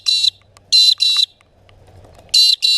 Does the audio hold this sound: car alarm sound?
yes